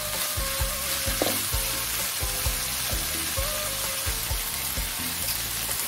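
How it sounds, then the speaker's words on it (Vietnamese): Meat stir-frying in a pan seasoned with salt, pepper and sugar, a constant loud sizzle with rhythmic scraping stirs from a utensil at a steady pace, close and alone. "Nhưng mà nãy giờ mình xào rồi"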